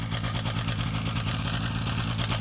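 A small private airplane's piston engine runs steadily at a fly-in event before takeoff, a loud, continuous low drone with a regular throbbing pulse close by.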